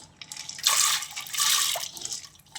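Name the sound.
water being poured into a pressure cooker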